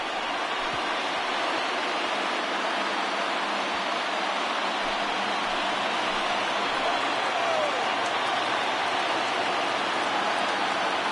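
Steady broadband roar of a baseball stadium crowd rising for a full count at a Blue Jays versus Rays game, with a commentator talking over the continuous noise.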